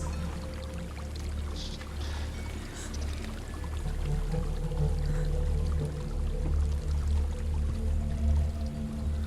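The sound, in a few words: waterfall in video game Hellblade: Senua's Sacrifice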